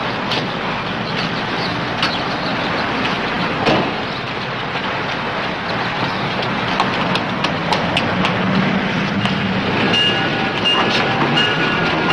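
A train running at speed gives a loud, continuous rumble with steady rattling clatter throughout, close and unbroken, with no voices.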